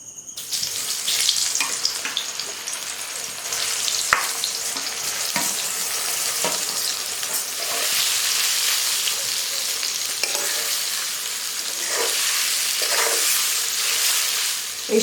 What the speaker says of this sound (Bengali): এই আলু ভাজা তেলের মধ্যেই আমি এই যে মাখিয়ে রাখা সোয়াবিনগুলো দিয়ে ভেজে নেব।